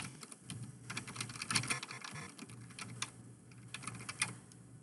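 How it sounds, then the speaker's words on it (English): Soft, steady keystrokes on a computer keyboard while an email is written, quick irregular clicks with occasional louder taps, close but quiet and without any voices. "type your email in the space below"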